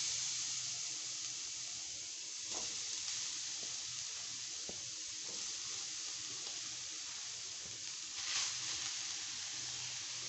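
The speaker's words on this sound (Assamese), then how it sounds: "এতিয়া মই সেইখন কেৰাহীতে নাৰিকলখিনি দি দিওঁ।" Grated coconut fries in a wok, a quiet, steady hiss and sizzle lasting throughout, broken by a few soft scrapes and clinks.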